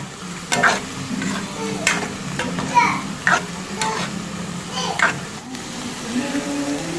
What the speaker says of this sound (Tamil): இந்த மீன் ஆட் பண்ணிட்டு இது கூட வேக வைக்கணும்.